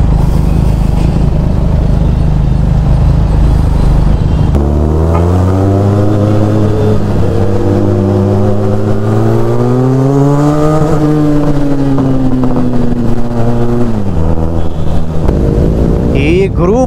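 A rally of 50+ motorcycles rumbles along a city road near Vidhana Soudha on Independence Day, starting as a dense roar, then one nearby bike's engine rising and falling in pitch as it revs, loud and close.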